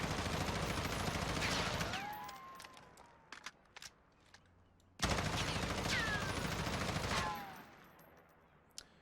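M4 assault rifle fired in the video game Warzone, two sustained bursts of rapid automatic fire separated by a short pause, loud and close with a few scattered clicks between.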